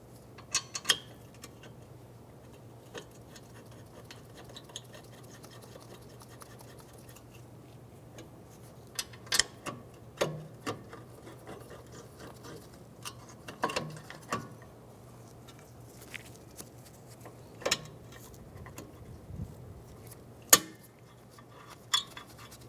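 Caliper bracket bolts are threaded by hand into the rear hub of a 2003-2011 Honda Element. Sparse, faint metallic ticks and clicks come at irregular intervals over a low steady hum, with a few sharper clinks near the end.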